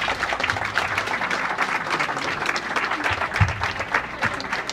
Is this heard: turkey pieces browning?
no